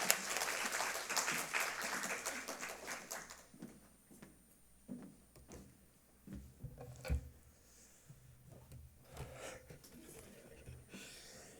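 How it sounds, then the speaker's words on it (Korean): Church congregation applauding at a Sunday afternoon service: a dense, fairly loud burst of clapping for about three seconds that thins into scattered claps, breaths and small rustles. "박수로 맞아 주십시오."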